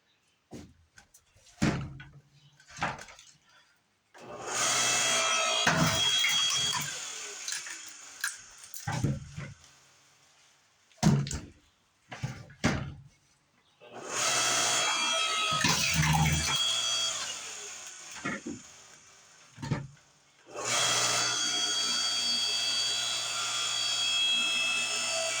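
An electric log splitter works through straight-grained maple in several long bursts of motor whine and strain, separated by short knocks, clunks and quiet pauses, close by with no talk.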